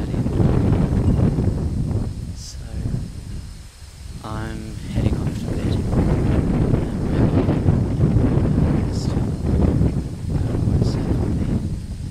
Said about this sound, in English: and there are gusts.